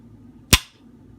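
A single sharp, loud shot from an AR-15 rifle fitted with a Delta Team Tactical trigger, cracking once and decaying quickly, with nothing else heard around it.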